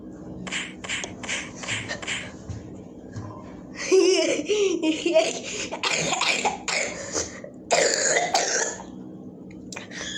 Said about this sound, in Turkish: Birazcık şiddetli öksürüyor olabilirim.